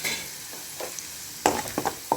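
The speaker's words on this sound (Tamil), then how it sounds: "பூண்டையும் போட்டு நல்லா பொரிச்சுக்குவோம். பொரியட்டும், நல்லா பூண்டும் பொரியணும்." Garlic frying in hot oil for a pirandai (veldt grape) pickle, with a steady close sizzle broken by several sharp stirring scrapes and clinks near the end.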